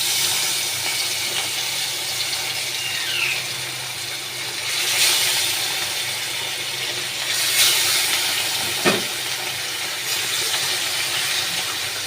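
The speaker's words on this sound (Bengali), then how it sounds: "তেলটা দিয়ে দিয়েছি, তেলটা গরম হয়ে গেছে। এবার আমি মাছগুলো এক এক করে ছেড়ে দেব।" Rui fish pieces frying one by one in hot oil for a light potato and ridge gourd curry, a steady broad sizzling hiss with small swells and a sharp tick, continuous and fairly close.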